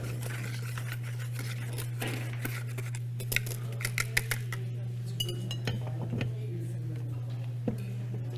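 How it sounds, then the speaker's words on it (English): Poultry seasoning being whisked into gluten flour in a bowl, light scraping and clinking of the whisk against the bowl, quick and close, over a steady low hum with a voice speaking. "It all goes in with the gluten flour. And then I just like to whisk it a little bit to get it all mixed together."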